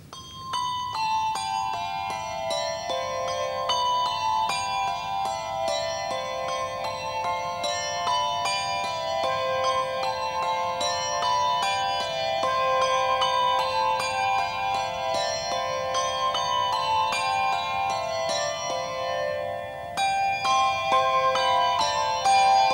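A set of eight bells rings a rising and falling scale, then a melody of Bluebells of Scotland, each struck note clear and resonant with lingering overlapping tones, steady and close.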